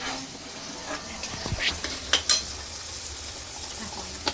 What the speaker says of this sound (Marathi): आईकडे आमटीला फोडणी देत आहेत.